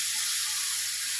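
Tamarind water poured into a hot pan gives a loud, steady hissing sizzle, dense and close, with no break for the whole moment and no voices.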